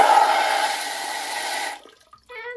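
Water sprays steadily from the nozzle of a LUXE Bidet NEO 320 Plus toilet seat attachment for nearly two seconds, then cuts off, followed by a faint trickle and a short whirring tone.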